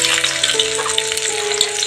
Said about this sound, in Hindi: इधर देखिए तड़का डलेगा, तैयारी हो गया है, गर्म हो गया